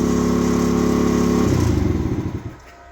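The engine of a 50cc Icebear Maddog scooter idles fast and high, near 4,000 RPM, with a steady buzzing drone. After about a second and a half it sputters and pulses, then dies away.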